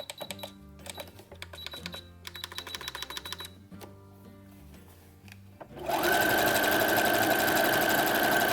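A sewing machine runs a reinforced stitch on a Star Wars jumpsuit cuff, stitching in several short bursts of rapid needle clatter with pauses between them, then a louder steady whir at the end.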